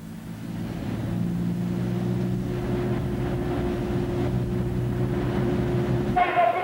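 Racing trucks at the 1998 Castellet truck Grand Prix accelerate hard off the start line, a heavy, steady diesel drone holding loud and sustained with a sharper sound cutting in near the end.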